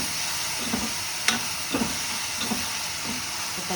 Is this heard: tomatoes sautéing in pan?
yes